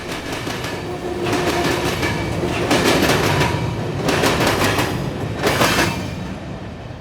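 Empty freight cars returning from Rockport toward Canada roll past, giving steady rumble and bursts of clickety-clack as wheels cross rail joints. The noise is loud and continuous, swelling at intervals, with faint birds in the background.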